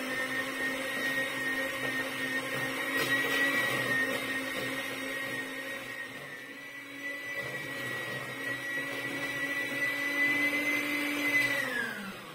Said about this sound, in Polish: I teraz miksuję z drugą częścią sera.